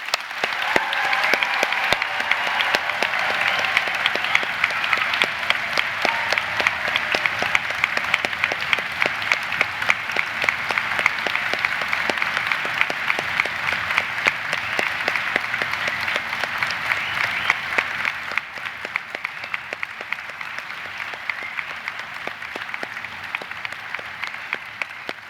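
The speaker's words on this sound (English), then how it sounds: "I think we should all give them one really loud," Sustained loud audience applause for graduates at a Milton Keynes degree ceremony, a dense steady wash of many hands clapping in a large hall that fades slightly toward the end.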